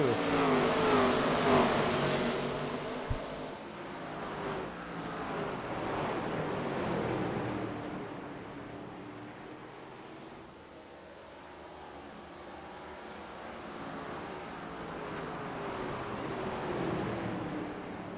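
Stock race cars at North Wilkesboro Speedway roar around the oval, engines revving and swelling as they pass, then fading and rising again in a continuous wash of noise.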